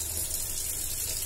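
Tap water running over freshly boiled pasta being rinsed in a kitchen: a steady, fairly soft hissing splash of flowing water, continuous and unbroken, with no talk.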